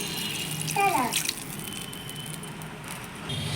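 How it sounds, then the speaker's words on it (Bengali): Water is poured into a pan for a thin rohu fish curry with taro, potato and spinach, making a close, continuous splashing gush that tapers into a softer trickle. "জল দিয়ে দিচ্ছি আমি পরিমাণ মতন"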